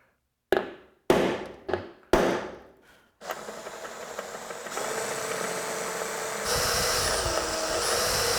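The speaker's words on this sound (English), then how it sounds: "we'll give her a little center punch just so we can try to drill this nice and" Center punch struck with a hammer on a broken bolt in a 1968 Chevy Camaro, four sharp metallic taps spaced about half a second apart, followed by a steady drill whirring.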